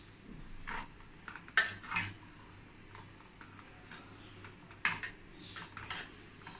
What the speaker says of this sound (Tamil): இந்த மாதிரி ரெண்டு கரண்டி வச்சி நல்லா இந்த மாதிரி கலந்து விடுங்கங்க